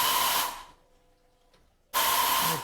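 Tormach PCNC 1100 CNC mill cutting with a 3/8 three-flute zirconium nitride coated carbide finish end mill at 5140 RPM: a loud steady hissing whine for half a second, a quiet pause, then the cut resumes just as loudly.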